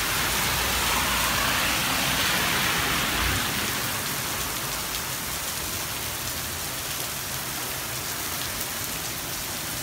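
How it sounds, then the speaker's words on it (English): A heavy downpour in Big Bear Lake, California roars steadily and loudly, a dense wash of rain hitting surfaces, slightly stronger at first and then holding constant. "Never seen it rain like this up here, guys."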